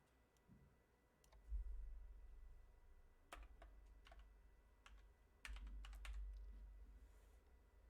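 Computer keyboard typing while team titles are changed in Madden 23, sparse clicks and short clustered bursts of keystrokes over a low hum, fairly close and quiet, with no talking.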